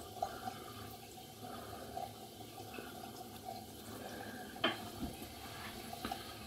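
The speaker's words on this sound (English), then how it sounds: "Wet the blade" Water runs steadily from a tap as a razor blade is wetted before shaving, a soft continuous splash with a few brief clinks and drips, close and fairly quiet.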